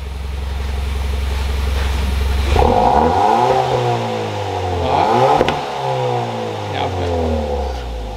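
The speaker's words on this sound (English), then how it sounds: "Give it another rev." A Hyundai i30 N-Line with an Xforce catback exhaust, valves open, idles with a low rumble, then is revved twice in quick succession, each rev swelling loud and close before falling back.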